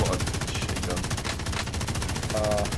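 Light machine gun fire in Call of Duty Warzone, a steady rapid rattle of shots running continuously over the whole stretch, with brief talk mixed in.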